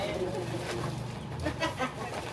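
Chicken clucks mixed with voices and background chatter, the bird sounds short and intermittent under the talk.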